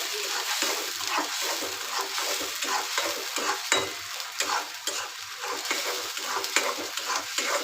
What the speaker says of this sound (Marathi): आणि सगळं परतून घ्यायचं वाटण.